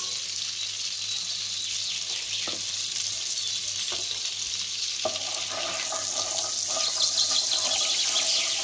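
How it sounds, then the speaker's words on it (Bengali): Oil sizzles steadily in a pan while Kolkata street-style dum aloo is cooked, a dense continuous hiss with a few soft clicks and stirring knocks, growing slightly louder toward the end; no talking. "এবার এই তেলের মধ্যে আমি আরেকটু তেল দিয়ে দিলাম।"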